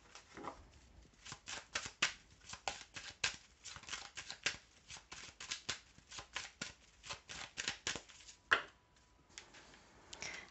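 Playing cards shuffled by hand for a card reading, a long run of close, soft riffling and snapping flicks in quick uneven rhythm, with faint background hiss and no talking.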